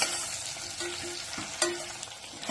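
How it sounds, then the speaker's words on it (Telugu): Long-cut okra pieces frying with onion, tomato and green chilli in a pan for an okra curry, a steady close sizzle with a few stirring scrapes and clinks, no voices. "బెండకాయ పచ్చివాసన పోయేంత వరకు వేగనివ్వాలి"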